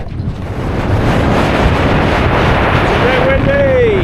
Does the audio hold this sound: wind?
yes